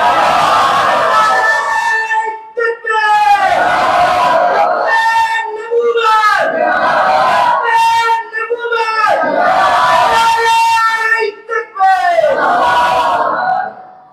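A large congregation at a Friday sermon gathering roars a chant back in response to the Naara-e-Takbeer call, loud massed voices rising and falling in several long surging waves with brief gaps between them.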